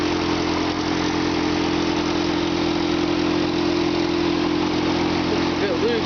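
A Toyota Hilux engine idles steadily and close by, a low even rumble with a regular pulsing beat that holds for the whole stretch with no talk over it.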